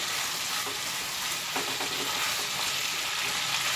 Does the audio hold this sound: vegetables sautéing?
yes